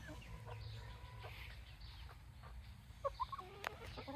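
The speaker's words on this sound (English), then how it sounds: "She's still the mother hen to my little baby chicks that I added." A mother hen with her four adopted baby chicks clucking in a chicken run, faint and distant over a low background rumble, with a few sharper peeps and clucks near the end.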